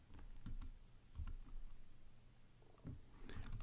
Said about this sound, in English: Let's go ahead and type in some Python.